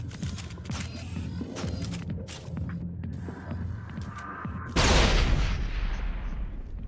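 Grenade explosion in Mass Effect, a sudden loud, broad blast that cuts through ongoing gunfire and game clatter and then rolls off slowly.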